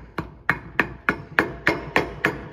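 Hammer driving bearings and an axle into a dirt bike wheel: eight sharp metallic blows at an even, unhurried rhythm, close and loud with no talk.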